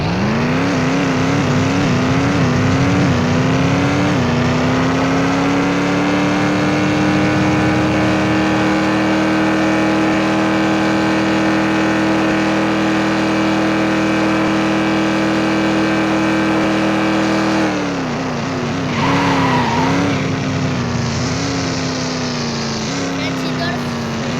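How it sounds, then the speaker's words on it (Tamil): A car accelerates hard at speed, its loud engine note climbing through several quick gear changes, then holding a steady high-revving drone before another burst of rising revs and shifts. "இந்த 3 காரில் வாங்க இந்த கார் எவ்வளோ ஸ்பீடு போகுதுன்னு பார்க்கலாம் ஃப்ரெண்ட்ஸ்"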